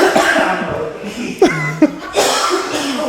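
A man coughs a few times in quick, close, rough bursts, with chuckling and other voices around the coughs.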